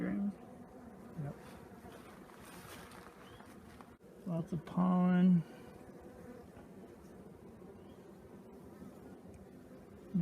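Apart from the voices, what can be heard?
honeybees buzzing, worker and drone bees at the hive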